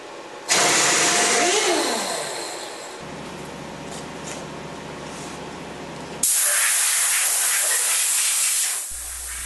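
Compressed air blowing loose chips off a milling machine gives loud bursts of hissing, spraying air in two long blasts with a lower mechanical hum between them.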